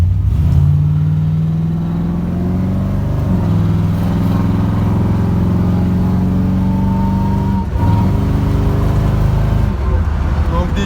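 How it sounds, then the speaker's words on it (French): American V8 car pulling away from a standing stop, its loud engine note climbing steadily in pitch through two gear shifts, near and continuous with a deep rumbling undertone. "vous avez la petite preuve, la mélodie du V8 américain"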